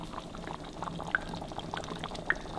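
Fish sauce is poured into a simmering Thai butternut squash red curry, giving a short soft liquid trickle over a gentle bubbling background, fairly faint and close with no talking.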